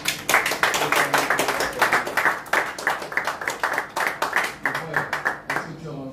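A congregation claps together in acclaim of Jesus, a steady run of rhythmic handclaps at close range that carries on for several seconds before thinning out near the end.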